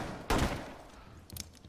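A single loud gunshot in Rainbow Six Siege, fired through a wall inside a university building, followed by a quieter pair of cracks near the end.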